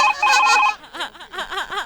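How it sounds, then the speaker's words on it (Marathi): A phone rings with an electronic melodic ringtone, a sustained tone followed by a series of quick chirping notes, close and loud. "देवाचा फोन आहे, काही बोलू नका."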